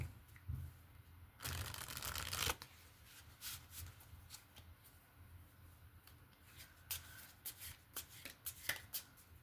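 Pocket-size Tarot of the Old Path card deck being shuffled: a soft, close riffle burst followed by quieter irregular card slides and flicks, with no voice.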